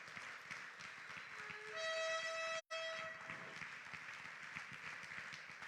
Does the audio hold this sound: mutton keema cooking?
no